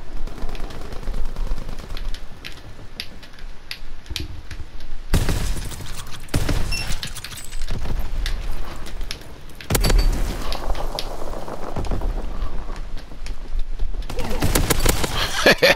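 Rapid gunfire fills a WW2 shooter game as a player fights with a shotgun: loud, close bursts of shots and automatic fire come in clustered volleys with brief lulls between them.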